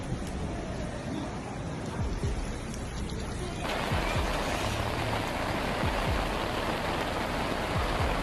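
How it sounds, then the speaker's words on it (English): Heavy rain pours down over Montevideo, Uruguay, a dense, steady hiss that thickens and grows louder partway through, with no voices. "On the morning of Monday, January 17, 2022, there was heavy rain in Montevideo."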